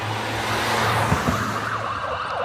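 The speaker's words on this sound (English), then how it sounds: "Oh, Leo hates these sirens" An emergency siren wails steadily, rising and falling over the low rumble of traffic.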